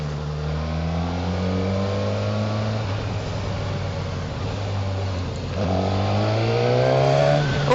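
A motorcycle pulls away and accelerates up through several gears, its engine note climbing, dropping at each shift and climbing again, loud and close throughout.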